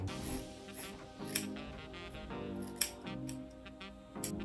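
Scissors snip bluntly through the end of a ponytail, making a few crisp, close cuts spaced about a second apart over a faint background.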